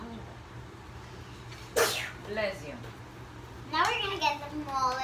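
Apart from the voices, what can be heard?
sneeze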